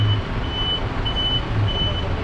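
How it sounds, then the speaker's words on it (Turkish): Heavy traffic in an old Mardin street gives a loud, steady rumble of trucks and cars up close, with a repeating high reversing beep from a truck throughout. "burada trafikten geçilmiyor beyler"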